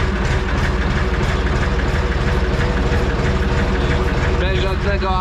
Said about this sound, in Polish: Na wolnych obrotach próba udźwigu.